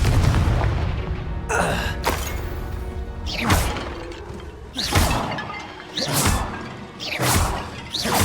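The Confringo fire spell in Hogwarts Legacy bursts into a series of booming explosions, each a sharp whooshing blast followed by a rumbling crash, repeating about five times in close succession.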